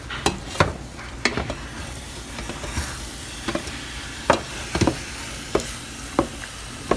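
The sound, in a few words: stirring diced tomato into ground turkey stew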